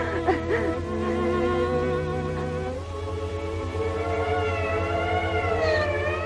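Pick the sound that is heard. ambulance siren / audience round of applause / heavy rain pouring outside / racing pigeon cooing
ambulance siren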